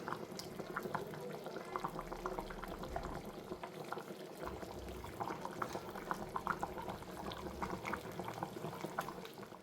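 Curry simmering in a pot at a rural home cooking spot, a steady bubbling boil with faint liquid pops running throughout under soft background voices.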